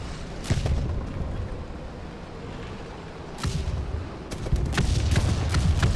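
A 40 mm cannon firing from a Swedish LVTDGB m/40 armored truck in War Thunder, a few heavy booms with long rumbling tails, the later shots close together.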